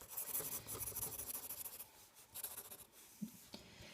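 A pencil scratches across paper while a repeating Teneriffe lace pattern is sketched, with close, dry rasping strokes in quick bursts and a brief pause near the middle, heard alone without talk.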